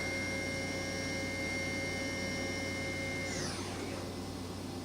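A Kitamura CNC horizontal machining center's 15,000 RPM spindle turning at 9,000 RPM gives a steady, close machine hum with high whining tones, then a brief swept tone near the end, with no talk.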